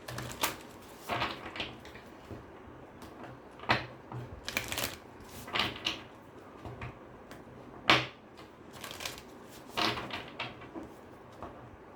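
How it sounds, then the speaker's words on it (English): Oracle cards being shuffled, a run of crisp riffling and tapping bursts recurring irregularly at close range, with no talk. "Let me just pull one oracle card for you."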